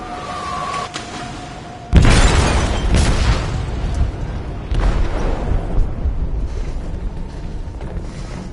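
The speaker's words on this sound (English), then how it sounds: "They detonated an explosive in the hold." An explosive goes off in a ship's hold in Detroit: Become Human, a sudden deep boom that breaks into a long rumbling roar with debris and groaning metal, loud and sustained after a quieter opening with a faint tone.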